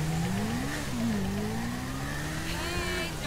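A motorcycle in GTA 5 revs and accelerates, its mid-pitched engine note rising and shifting through gears, close and steady for a few seconds.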